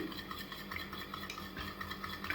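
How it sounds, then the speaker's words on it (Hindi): An egg is whisked in a bowl for a samosa filling, a soft continuous rapid clicking and swishing with a steady rhythm, faint and without talk. "1 अदद मैंने अंडा लिया, अब मैं इसको फेंट लूँगी।"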